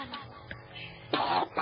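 A person coughs in a scripted radio horror story, heard as a few muffled bursts from outside a bedroom, with a louder rough cough late in the short stretch over a dark, low background.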